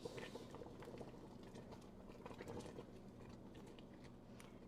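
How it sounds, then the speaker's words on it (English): A pot of green tomato salsa bubbles softly at a low simmer, with faint steady popping and gurgling close by. "give that a good stir and turn it down from boiling to a simmer"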